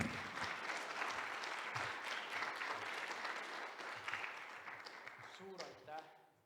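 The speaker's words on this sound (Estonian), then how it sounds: "Ja kogudus, ma arvan, et nad väärivad ühte aplausi." A church congregation claps in steady, moderately quiet applause that fades near the end, with a voice speaking briefly over the final moments.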